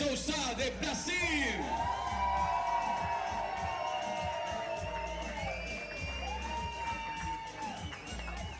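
Crowd cheering and whooping at the Santiago 2022 Para Pan American compound men open archery gold match, a sustained roar of yells and shouts with a whistle-like whoop near the start.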